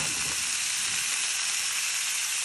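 String beans stir-fried with browned meat for adobong sitaw, a loud, steady hiss of sizzling oil filling the pan continuously and close up, with no talking.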